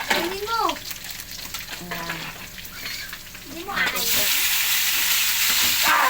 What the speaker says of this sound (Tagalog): Piprito tayo ng isda.